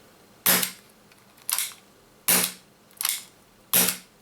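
Five sharp gas-powered shots from a King Arms Python 357 airsoft revolver, each a crisp pop with a short hiss, fired at an irregular pace with pauses between, close and loud with nothing else audible.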